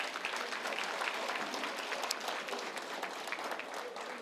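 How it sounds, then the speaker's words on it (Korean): An audience at a party members' debate forum applauds vigorously, a dense, continuous clatter of many clapping hands that holds steady throughout. "힘찬 박수로 시작하겠습니다."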